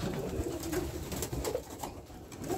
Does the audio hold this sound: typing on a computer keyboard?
no